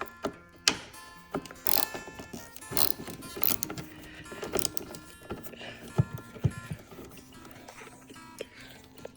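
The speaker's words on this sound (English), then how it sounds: "We'll take this little screw out." A screw is worked out of the rear fender of a John Deere X Series lawn tractor, giving close ratcheting clicks, metallic rattles and small knocks in irregular bursts.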